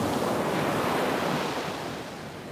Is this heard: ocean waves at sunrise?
yes